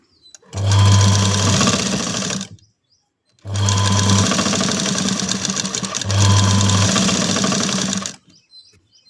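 Sewing machine stitching a blouse, running in three loud continuous bursts of rapid mechanical whirring and needle chatter, separated by short pauses.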